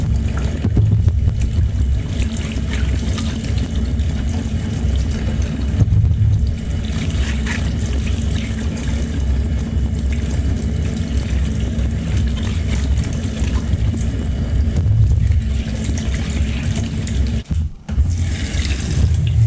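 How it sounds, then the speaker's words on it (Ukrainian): Cucumbers being washed under running water in an apartment kitchen before fermenting: a steady, close rush of water runs throughout, briefly dipping near the end. "Помиємо ретельно наші огірки."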